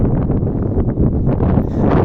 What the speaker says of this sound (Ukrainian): Зараз великий вітер